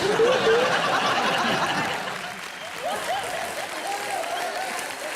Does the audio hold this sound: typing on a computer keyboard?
no